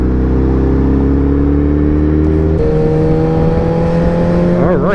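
A group of motorcycles rides together through evening traffic, their engines droning loud and steady with a constant tone that shifts in pitch as the bikes accelerate, and a nearby rider revs up near the end.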